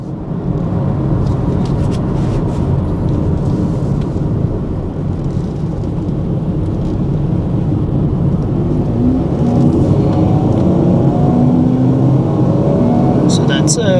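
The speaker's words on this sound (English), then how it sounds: "Quite heavy throttle acceleration, by the way." An MG3 1.5L small hatchback engine pulls hard under heavy throttle on the approach to a motorway, giving a loud, sustained drone with road and wind roar that rises gradually inside the cabin.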